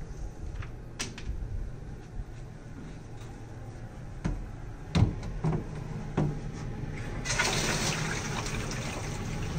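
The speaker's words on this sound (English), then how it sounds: "fill the jug with 5 gallons of water" Water pours steadily into a jug being filled with five gallons for mixing ultrasonic-testing couplant, with a few hollow knocks partway through and the flow growing louder and fuller near the end.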